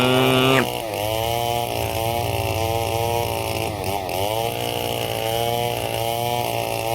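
An 8.5-horsepower chainsaw engine cutting wood runs loud and steady, revving up sharply at the start and then holding a rough, high droning whine with slight surges throughout.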